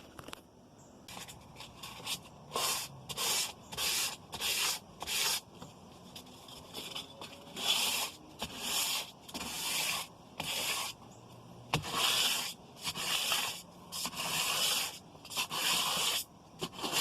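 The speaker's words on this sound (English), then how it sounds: "Anyway, let's get to sanding." Repeated rhythmic sanding strokes, bursts of raspy scraping in regular back-and-forth passes with short pauses between, close and fairly loud.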